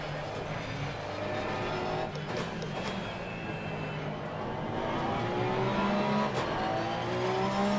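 Porsche 911 GT3 R race car engine in the Assetto Corsa Competizione sim at Circuit Paul Ricard, droning steadily with rising revs and gear shifts throughout, loud and continuous.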